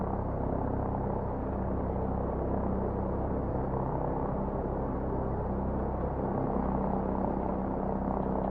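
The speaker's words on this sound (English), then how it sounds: "Friendly helicopters entering the area." Friendly helicopters fly over a combat zone in Call of Duty Modern Warfare, a steady, muffled rotor rumble that holds throughout without breaks, with no speech over it.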